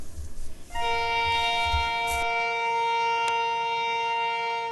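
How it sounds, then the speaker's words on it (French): A train horn or siren in Senegal sounds a loud, sustained harmonic chord that starts after a brief rumble and holds steady for about four seconds, with no talking. "Nombreux sont les Sénégalais qui sont nostalgiques dès qu'ils entendent la sirène du train."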